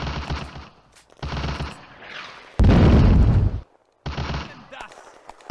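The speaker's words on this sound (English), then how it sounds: "Hesse's squad has the Soviet mortar crew pinned down under heavy small arms fire." Heavy small arms fire in a WWII Eastern Front video game battle, loud bursts of machine-gun and rifle fire broken by short gaps, plus one big blast, with shouted soldier voices in between.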